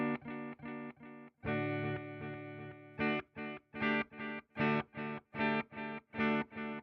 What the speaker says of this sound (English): And there's your echo.